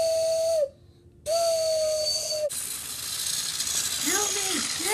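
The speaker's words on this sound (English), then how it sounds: "Suddenly, he heard a whistle." A toy train engine whistle sounds in two steady tonal blasts with a short gap between them, then gives way to a clattering, hissing mechanical rush with sliding whistle tones near the end.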